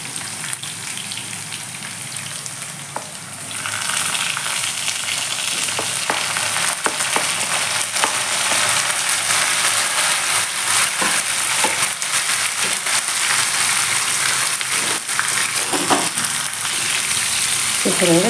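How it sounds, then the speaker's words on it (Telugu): Tomato frying in oil in a pan for curry, a loud continuous sizzle that swells after a quieter opening, with light crackles and occasional stirring clicks throughout. "ఇక్కడ కూడా టమాటో కూడా ఆల్మోస్ట్ వేగిపోతుంది"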